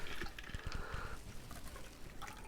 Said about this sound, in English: I have my ice in there pouring out, so I've got a nice chill on it